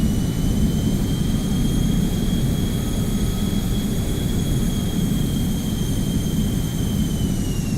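An MD80 jet engine in X-Plane 11, with thrust reversers deployed on landing, makes a loud, unbroken roar topped by a thin, steady whine that holds throughout.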